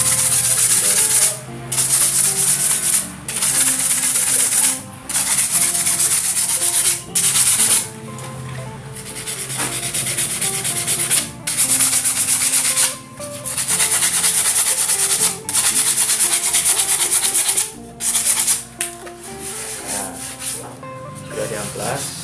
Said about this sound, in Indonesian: Sudah diamplas